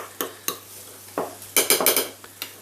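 Roasted garlic is mashed into a paste with a spoon, giving a series of irregular, close clicks and scrapes of metal against a dish, with a quicker cluster of taps midway.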